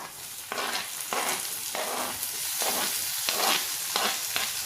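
Tomato pieces hit a hot frying pan in a spinach dish being cooked, bursting into loud close sizzling as a spoon stirs and scrapes in rhythmic pulses, with no talking.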